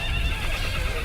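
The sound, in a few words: horse neighing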